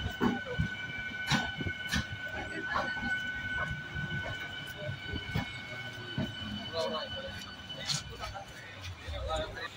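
A train from Bangalore toward Hosur and Dharmapuri rumbles along the rails with repeated clacks and a sustained high tone, while a person talks over the running noise.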